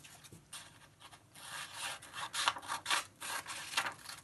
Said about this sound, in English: and trimming off the extra bit